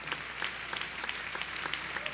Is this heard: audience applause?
yes